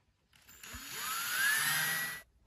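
A power drill bores a hole in a wooden cuckoo clock birdhouse during restoration: a rising whine that holds steady for nearly two seconds, then cuts off.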